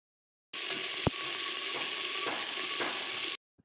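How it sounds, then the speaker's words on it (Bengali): Onions, green chilies and spices frying in oil for khichuri, a steady close sizzle lasting a few seconds with a sharp clink of a utensil early on, starting and stopping abruptly. "পেঁয়াজ মরিচগুলো সুন্দর করে ভাজা হয়ে গেছে, মশলাও ভাজা হয়ে গেছে।"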